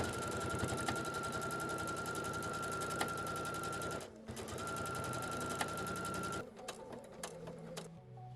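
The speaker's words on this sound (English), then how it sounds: "Then we're gonna go sew that edge." A sewing machine stitches a strip along the edge of a pair of jeans, running in a steady, loud mechanical chatter for several seconds, pausing briefly, then resuming before giving way to scattered clicks and handling noises.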